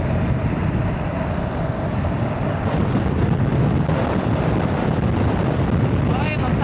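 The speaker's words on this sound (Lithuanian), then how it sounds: "Koks šaunis vėjas atsirado." Steady outdoor wind rushing and buffeting against the microphone on a flat open plain in the evening, a continuous broadband roar with low gusty rumble throughout and no clear voices.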